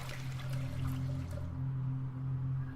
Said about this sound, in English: Toilet? It's just gonna flush.